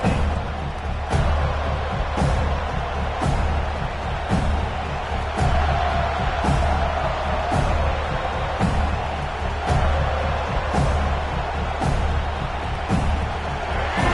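A football stadium crowd at an SMU versus FSU game roars in a continuous, dense wall of cheering, with rhythmic thumps pulsing through it roughly every second.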